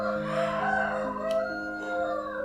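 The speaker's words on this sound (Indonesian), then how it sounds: "Banyak ayam berkokok di sini." Several roosters crow over one another, loud and steady across the whole stretch, with long drawn-out calls layered together and no talking.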